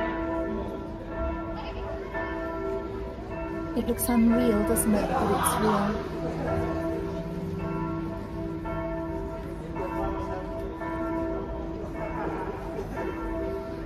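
Church bells ring out at a distance in a small German town, their tolling blending with ambient outdoor noise while a person speaks briefly over them.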